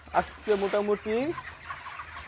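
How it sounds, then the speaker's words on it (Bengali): Chickens on a poultry farm, 32-day-old birds, give a few close, loud clucks in a quick burst and then settle to quieter sounds. "এই দেখতেছি মুরগিগুলো আমার"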